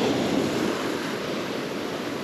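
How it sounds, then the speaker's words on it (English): Strong ocean waves break on the beach at La Jolla, California, a loud, continuous broadband wash of surf close to the microphone with some wind noise and no speech. "The waves are coming in really strong"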